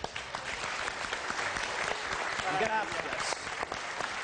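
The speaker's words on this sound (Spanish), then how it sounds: "Bueno, pues un aplauso." Studio audience applause on a Galician TV show, steady dense clapping filling the whole stretch, with a voice speaking briefly over it.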